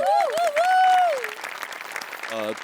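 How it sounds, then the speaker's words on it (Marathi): Audience applause on a Marathi television comedy stage show: a dense, steady wash of clapping throughout, with a gliding tonal sound riding over the first half and a brief voiced sound near the end. "वा अभिनंदन आणि टाळ्या सुनील डांगेसाठी"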